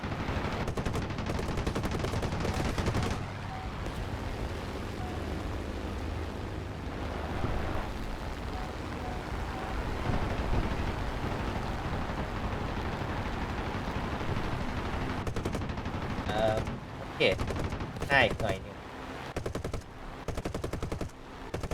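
Spitfire Mk1a machine guns in War Thunder rattle in fast bursts over a continuous aircraft engine roar, with sharper clusters of fire toward the end.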